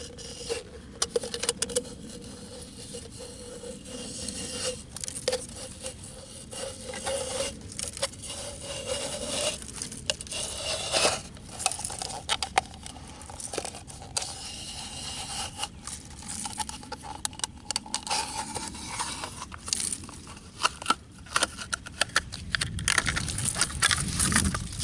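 A knife slices a plastic bottle into a long strip of cordage, heard as a continuous rasping, crackling scrape with irregular crinkles and pops from the plastic, close and steady, with no talk.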